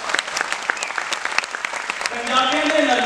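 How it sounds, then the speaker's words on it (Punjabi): Applause from a live comedy show audience: dense rapid clapping throughout, loud and close, swelling into a fuller, sustained roar of clapping and crowd noise in the final second. "ਪਲੀਜ਼ ਜ਼ੋਰਦਾਰ ਤਾਲੀਆਂ"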